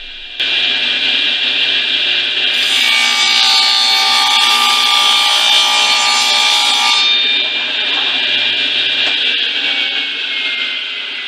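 A power saw cuts through a wooden board guided by a miter gauge to true up one end, a loud steady whine rising for several seconds mid-clip over a continuous motor hum, with no talking.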